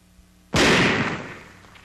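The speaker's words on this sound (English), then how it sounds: "Old type oxygen tanks with a shell made all in one piece shatter upon being hit by a burst of .50 caliber machine gun fire." A single sharp, loud blast as a .50 caliber machine gun burst strikes an old one-piece oxygen tank, followed by a decaying roar that fades over about a second and a half.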